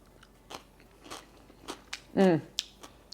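A single loud crunchy bite into a homemade bread and butter pickle stands out, with a few softer clicks and mouth noises around it, close to the listener.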